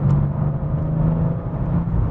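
Turbocharged car engine revved to about 3000 RPM, a sustained loud low drone with a steady tonal hum, close and continuous with no voices.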